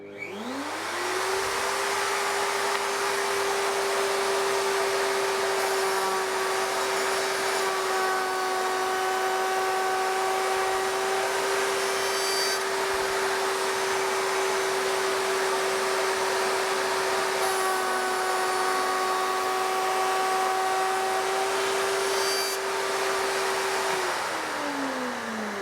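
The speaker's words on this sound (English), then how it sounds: "Everything's connected up to my dust extractor, so when I start this, the dust extractor will start." A router mounted in a shop router table, running with a connected dust extractor, spins up to a steady loud whine and hum, with two passes of the cut adding higher tonal screams before everything winds down at the end.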